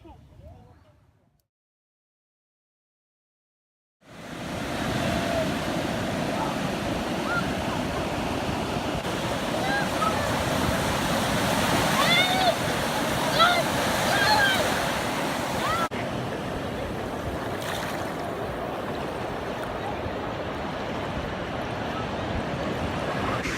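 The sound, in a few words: waves at a beach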